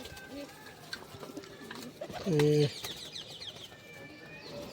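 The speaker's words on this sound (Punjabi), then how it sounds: "ਬੈਠੇ ਐ ਕਬੂਤਰ ਛਤਰੀਆਂ ਤੇ" Pigeons perched on loft roosting canopies give faint scattered coos, with a brief burst of wing flapping midway, while someone talks nearby.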